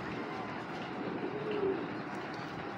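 A large female tiger grizzle racing pigeon gives a soft, low, throaty coo, fairly faint against a light background hiss.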